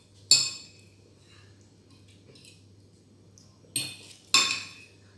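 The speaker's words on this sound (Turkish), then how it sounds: "Senin o çatal tutmalarını seveyim Efoli." A fork clinks sharply against a plate three times during a meal of manti, with quiet pauses and a low hum between the clinks.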